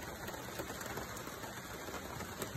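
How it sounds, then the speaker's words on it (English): Heavy rain pours steadily on a golf course green at Wolf Creek in Bastian, Virginia, a dense, even hiss of drops with no talk. "it is pouring the rain."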